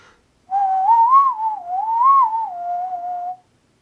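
A single person whistles a slow, wavering melodic line for about three seconds as a trumpet lip-slur exercise, clear and close, with silence before and after.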